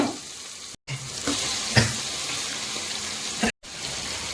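About one and a half kilograms of chicken sizzling in a pan over softened tomatoes, onions and green chillies, with a steady frying hiss and occasional stirring scrapes and clinks, broken by two brief silent cuts.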